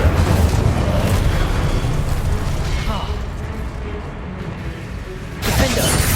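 Fire spell cast during spell-slinging combat in the PS5 game Hogwarts Legacy: a dense, continuous roar of whooshing magic and booming blasts, with a fresh loud surge near the end.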